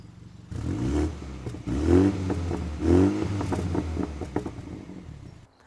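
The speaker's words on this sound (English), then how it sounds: "this little Gran Coupe gets a functional ducktail spoiler for downforce and even an active exhaust system that sounds like this" A BMW M235i Gran Coupe's active exhaust barks through three sharp, rising revs in quick succession, then settles into a rumbling, crackling idle, loud and close with no talking.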